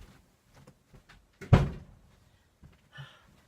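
An unlatched door is pushed open by a cat, giving one sharp knock or bump followed by faint rustling and a small later clunk, close by in a quiet room.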